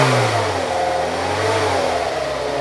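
A Nissan K11 Micra engine runs rough on stale fuel, revving unevenly and struggling. The steady, close droning tone wavers in pitch throughout.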